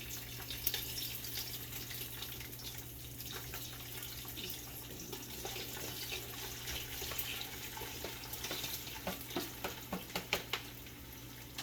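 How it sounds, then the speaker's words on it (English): Beef frying in a pan for a stew: a quiet, steady background sizzle with a low hum, then a run of small crackles and spatters growing busier toward the end, with no talking. "I'm gonna fry the beef."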